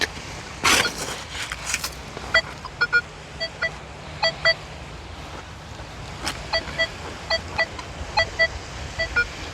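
Short electronic beeps from a Nokta Triple Score metal detector sound intermittently over a steady outdoor background hiss, with a few louder rustles near the start.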